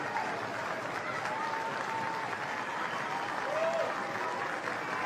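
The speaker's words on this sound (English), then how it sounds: "a knowledgeable crowd acknowledging the two teams as they enter the fray" Steady applause from a large stadium crowd as the Japan and Russia rugby teams take the field for a 2018 men's international, a continuous wash of clapping with faint whistles rising through it.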